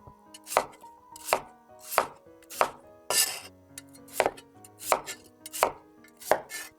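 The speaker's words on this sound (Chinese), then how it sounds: "1根胡萝卜切成滚刀块， 土豆也切成滚刀块" A knife chops a carrot and a potato into chunky roll-cut pieces on a board, with about ten crisp, evenly spaced chops close up and no talking.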